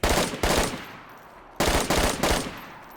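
Close, loud gunfire from the DayZ survival game comes in two clusters of three rapid shots each, every report sharp with a decaying echo, and a short pause separates the groups.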